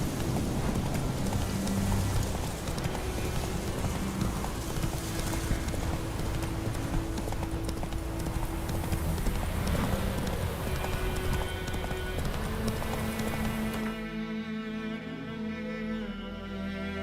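Roach the horse galloping in The Witcher 3: Wild Hunt, a dense, loud, continuous drumming of hooves with rain-like spatter over a rumbling game mix, thinning near the end.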